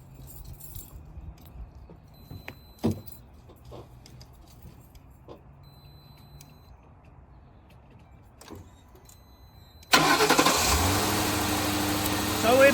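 A car engine cranks and catches after a jump start from a compact battery jump starter, then settles into a steady, loud idle. The engine runs after a quiet stretch with scattered small clicks and handling noises.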